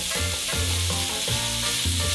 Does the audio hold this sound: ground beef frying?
yes